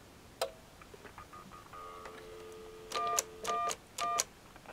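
Telephone DTMF dialing tones beep from a phone line, with a faint early tone, a held dial tone, and then three distinct, evenly spaced keypress beeps near the end.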